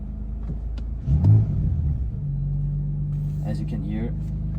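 BMW M4 F82 engine cranks over and catches with a brief louder burst, then settles into a steady low idle rumble close by; a voice speaks faintly over the idle near the end.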